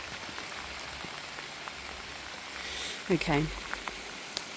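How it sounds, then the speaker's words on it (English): Rain falls steadily on an allotment plot in September, a constant close patter across the whole stretch, with a brief spoken word partway through. "I think it's starting to rain harder."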